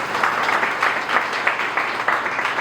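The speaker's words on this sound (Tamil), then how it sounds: "அவருக்கு நல்ல ஒரு கைத்தட்டி கொடுங்க." Steady applause from a seated audience at a community welfare meeting where rain coats and umbrellas are being handed out, dense and continuous clapping with rhythmic swells throughout, no voices on top.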